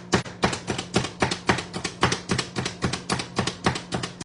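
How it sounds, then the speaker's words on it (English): A knife chops onion on a cutting board for Caribbean tuna cakes, a quick, steady run of about twenty close, sharp taps with no talking. "I'm gonna chop until it's pretty small."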